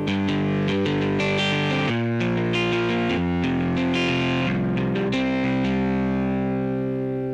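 A Yamaha YC stage keyboard plays dense sustained chords through its darkest 'double' drive setting with no reverb, giving a thick, gritty, continuously held tone with shifting notes throughout and no voices.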